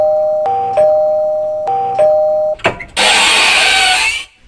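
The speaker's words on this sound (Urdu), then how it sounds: "بار بار کیوں گھنٹیاں بجا رہے ہو؟" Two-tone electronic doorbell chiming twice in quick succession, loud and close, followed by a sharp knock and then a burst of harsh broadband noise.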